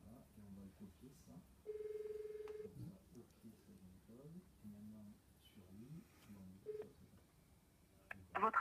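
A Cisco 8851 desk phone places a call: a short run of dialing tones and beeps, then a steady tone and quieter ringback tones, faint and close, with a person speaking softly in between.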